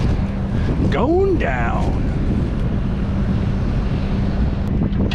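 Steady breezy wind rushes over the microphone outdoors on a farm, a constant broadband roar with a brief creaking, whirring machine sound early on and a short spoken remark.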